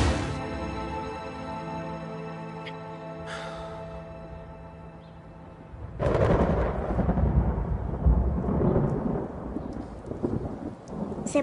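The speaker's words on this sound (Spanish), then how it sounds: "Se puso a llover." Rain begins outdoors: a low rumble and faint patter give way about midway to a louder, steady broadband hiss of falling rain that carries on to the end, with no voices.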